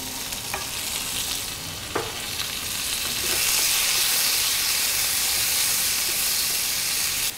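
Quartered tomatoes fry with dried red chillies in a pan for tomato dosa, giving a steady close sizzle that swells into a louder hiss midway, with a few sharp stirring scrapes near the start.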